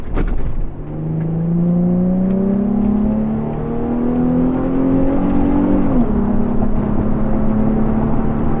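A Nissan 350Z convertible engine revs hard at full throttle and climbs steadily in pitch, then shifts and keeps pulling, loud and close with a rising whine.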